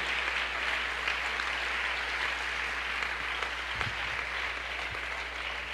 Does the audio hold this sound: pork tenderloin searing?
no